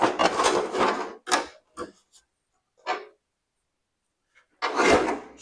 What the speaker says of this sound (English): So the fan shroud should come right off.